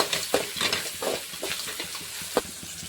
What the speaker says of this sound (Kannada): ಈಗ ಅದನ್ನು ಕೂಡ ಚೆನ್ನಾಗಿ ಫ್ರೈ ಮಾಡ್ಕೊಳ್ಳೋಣ